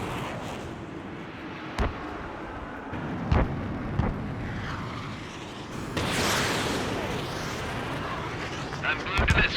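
Missiles launch and explode in the Ace Combat 7 jet combat game, with several sharp booms over a constant roar of jet engine and wind, under radio chatter and a speaking voice.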